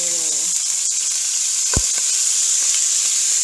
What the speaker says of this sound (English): let that brown, get a nice sear on all sides of your beef